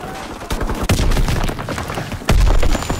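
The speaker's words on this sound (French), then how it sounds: "mais il y a des coups de feu" Gunfire rattles in the Call of Duty WW2 beta, with an STG 44 among the weapons: loud sharp shots and heavy booms cracking irregularly, some close and punchy, over continuous battle noise.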